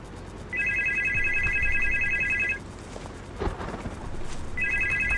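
A video game telephone rings in loud electronic trilling bursts, one long ring and then a second starting after a pause, over faint background noise.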